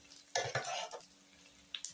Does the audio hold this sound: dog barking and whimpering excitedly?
no